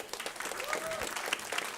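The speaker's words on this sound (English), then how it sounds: "Give her a round of applause." An audience at a food-industry panel event gives a brief, dense round of applause for a speaker being introduced. A voice carries faintly over the clapping.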